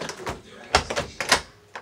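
A locked door is tried: a few short knocking and rattling clacks of the handle and latch in quick uneven bursts, fairly close and moderately faint, with no talking.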